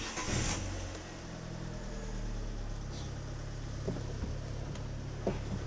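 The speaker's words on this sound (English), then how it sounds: "Reconnect the battery and turn on the ignition." A car with its ignition switched on after the battery is reconnected, its front bumper off, gives a low, steady engine hum close by, with a few faint clicks and taps over it and no talking.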